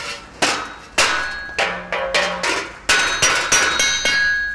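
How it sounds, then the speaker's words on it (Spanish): A blacksmith hammers hot iron at the forge, striking about ten loud ringing metallic blows in an uneven rhythm, each with a bright clang and short decay, close and alone. "Cuando sacamos del hogar el hierro, se forman unos colores con los que el herrero ve y trabaja, es decir, forjamos."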